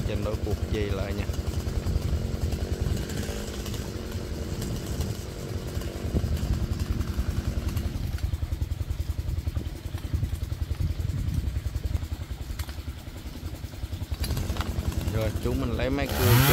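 Chainsaw cutting a huge eucalyptus tree beside a rice field, a sustained rough buzzing engine drone that rises and dips as the blade bites, close and loud, with a voice talking over it.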